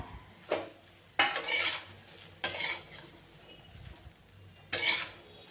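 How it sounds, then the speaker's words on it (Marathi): Okra dry-roasted without oil in a pan, heard as a few distinct bursts of metal spatula scraping and stirring against the pan, separated by quieter gaps, close and unaccompanied by talk. "पहिल्यांदा आपल्याला ह्या भेंडीला चांगली अशी खरपूस भाजायची आहे"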